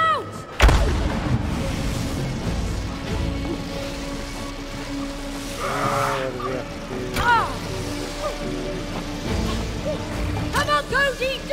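Video game gunfire from It Takes Two: heavy, booming shots and blasts burst out amid a busy mix of game sounds, with players talking over it.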